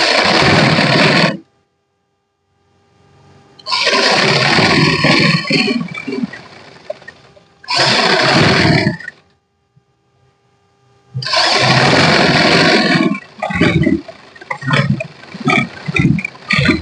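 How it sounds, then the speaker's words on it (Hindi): Sewing machine running a seam along a kurti collar, loud bursts of whirring motor stitching separated by silent gaps, with short stop-start runs toward the end. "यहां से इसके बराबर बराबर नीचे की तरफ सिलाई लगाएंगे"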